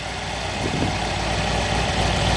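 A V8-powered Datsun 240Z idles nearby with a steady, deep rumbling drone and even mechanical vibration.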